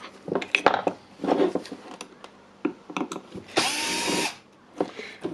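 Screws removed from a Makita jigsaw during a teardown: clicking and scraping of a screwdriver and small metal parts, then a brief whirring powered driver burst lasting under a second, close and intermittent, with no talk.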